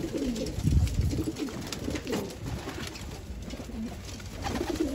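Pigeons cooing up close in soft, repeated throaty rolls, several calls overlapping against a low background hum.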